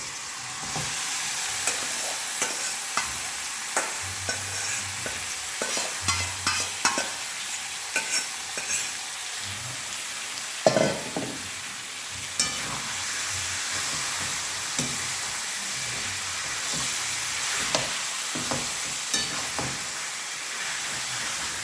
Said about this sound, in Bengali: মশলাটা একদম ভালো করে ভাজা হয়ে গেছে। এবারে আমি চিকেনটা দিয়ে দেবো।